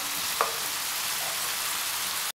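Beef qeema sizzles in a pan with red chillies just added, a steady fine crackling hiss with a single brief clink near the start and no voices.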